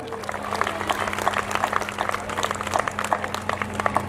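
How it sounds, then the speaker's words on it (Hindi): An audience at a stage event applauds with steady, dense clapping that carries on throughout, with a constant low hum from the hall's sound system underneath. "एक बार कर लो बहन जी का सम्मान, एक बार तालियां बजा के सम्मान।"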